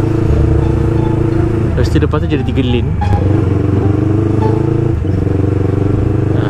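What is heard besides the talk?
motorcycles in heavy road traffic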